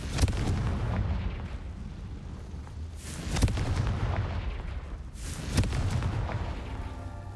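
Three heavy fiery blasts from the Confringo spell in the video game Hogwarts Legacy, each a sharp boom with a rumbling tail, spaced a few seconds apart over a steady low game backdrop, with no one talking.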